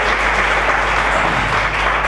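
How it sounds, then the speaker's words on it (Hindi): A congregation at a church service applauds, a dense, steady burst of clapping that fills the whole short stretch without pause. "एक अच्छा ताली प्रभु यीशु के जोर"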